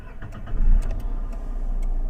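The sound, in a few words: small car engine starting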